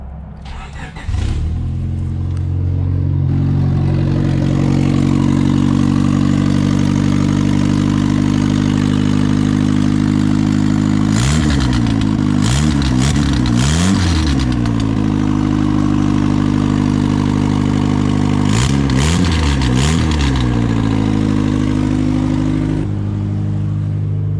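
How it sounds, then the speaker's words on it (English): A turbocharged Honda Civic engine starts for the first time, cranking briefly before catching into a loud, steady idle close by, with two sharp revving blips midway and near the end. "the Turbo Civic first start as promised in this video"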